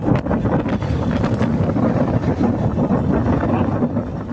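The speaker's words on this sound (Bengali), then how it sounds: "থামাতে পারছি না, এত হাওয়া দিচ্ছে" Strong wind buffeting the microphone while riding a Honda SP 125 motorcycle on the road from Kolkata to Dankuni, a continuous loud rumbling roar with gusty surges throughout.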